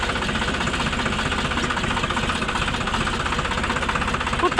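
A tractor's diesel engine runs steadily close by, a loud knocking chug with a rapid even rhythm and constant vibration, with no talk over it.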